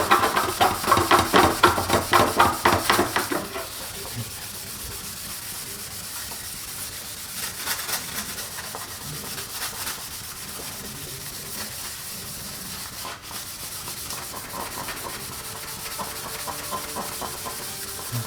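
A scrubber rubs across a Dodge Charger Scat Pack front lip guard being cleaned with alcohol, producing a rhythmic, close scraping burst at first, then a quieter steady rubbing hiss that continues alone.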